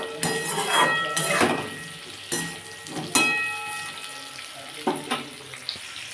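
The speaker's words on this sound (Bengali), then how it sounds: "আমি এর মধ্যে একটু পেঁয়াজও দিয়ে দিচ্ছি দিয়ে একসাথে এটা ভেজে নেবো লাল লাল করে" Onion frying in a pan alongside potato and tomato for a cauliflower pakoda curry, a steady sizzle broken by several louder scraping stirs and clatters at close range.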